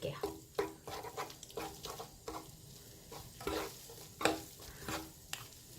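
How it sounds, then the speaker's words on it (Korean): Seasoned namul vegetables being stir-fried over high heat in a pan, with repeated close scraping and stirring strokes over a steady background sizzle, no talking. "그래갖고 한번 센 불에 한 번만 더 볶아줄게요"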